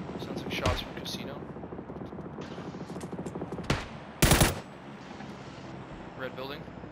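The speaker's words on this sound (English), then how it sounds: "Sounds like shots from casino." Gunfire in the battle royale game PUBG, scattered bursts and sharp single shots at varying distances over an ongoing game soundscape, with players talking over the top.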